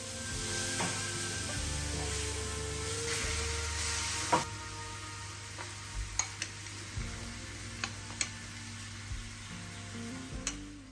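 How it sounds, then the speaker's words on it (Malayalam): Onions sautéing in coconut oil for a home-cooked lunch, with a steady low sizzle throughout and a series of sharp clicks and taps as a utensil stirs the pan, close and moderately loud, with no talking. "ഇനി ഇതിനൊന്ന് നല്ലോണം ഇളക്കി നല്ല രീതിയിലൊന്ന് വഴറ്റിയെടുക്കുകയാണ്"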